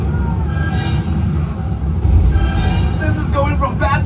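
The Universal Studios Hollywood tram rumbles through the Earthquake attraction, a loud, heavy low drone that swells near the middle, with a voice speaking briefly toward the end.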